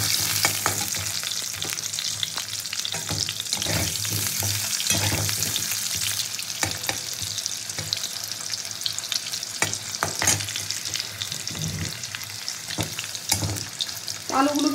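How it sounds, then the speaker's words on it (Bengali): Large chunks of potato fry in oil in a wok, sizzling loudly and continuously at close range, with repeated scraping stirs and clinks of the spatula throughout and no voices. "প্রথমে আমি আলুটাকে ভেজে নেবো।"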